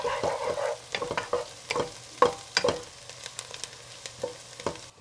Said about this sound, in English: is it time to add the garlic to it and saute with a couple of minutes with the garlic?